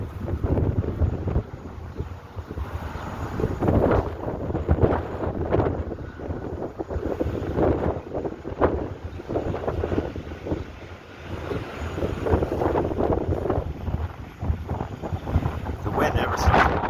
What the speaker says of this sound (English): The wind never stops blowing.